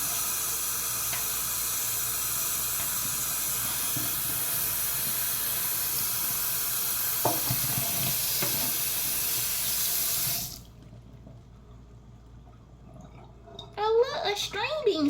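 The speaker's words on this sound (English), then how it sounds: "So I just rinse mine out." Tap water runs steadily into a kitchen sink as food from a can is rinsed under it, a broad continuous hiss that stops abruptly, followed by a brief voice.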